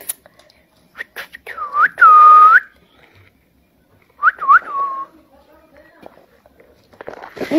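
A person whistles two short rising-and-falling phrases, the first held longer, the second quicker and warbling, loud and close with quiet gaps and faint rustling in between.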